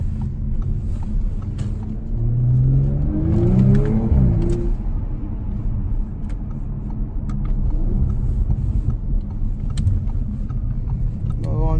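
An Audi RS model with an eight-speed gearbox revs and accelerates, its engine note climbing in pitch over a steady rumble, loud and close, with talk heard over it.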